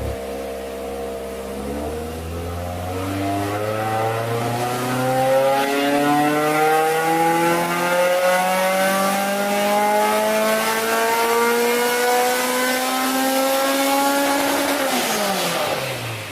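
A Honda S2000 engine pulls at full throttle on a dyno, its pitch climbing steadily through the rev range with a VTEC switchover along the way, then dropping off sharply at the end; no one speaks.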